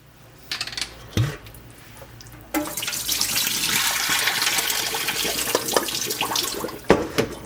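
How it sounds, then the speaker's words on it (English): Rinse water poured off oxtail into a kitchen sink, a steady rushing gush lasting several seconds after a few clinks of a pot or dishes, with a clatter at the end. "we're going to pour this water off real quick"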